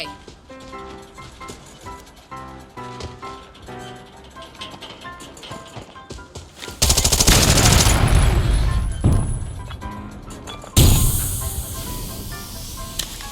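Gunfire in the shooter Arena Breakout, with softer background shots and music at first, then two long, loud close bursts of automatic fire separated by a short break.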